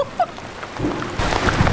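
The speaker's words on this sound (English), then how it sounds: "The thunder is so loud." Steady rain with a deep rumble of thunder swelling in the second half during a storm in Spain, heard from inside a camper van, loud and close, with a couple of faint voice-like bits early on.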